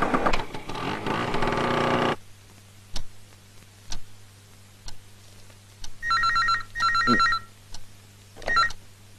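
A telephone rings in a Kannada film scene: two short bursts of electronic trilling ring tone with a brief third chirp, heard after music cuts off, alongside sparse ticking clicks in an otherwise quiet room.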